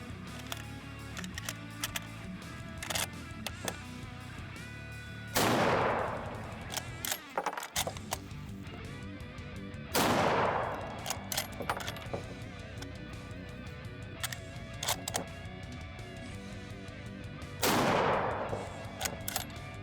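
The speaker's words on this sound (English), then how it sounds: "And that was S&B 180 grain soft point flat bottom, I think." Several separate gunshots from a Lee-Enfield No.5 Mk.1 Jungle Carbine firing S&B 180-grain soft point flat-bottom ammunition ring out at intervals, with quieter handling clicks and rattles in between.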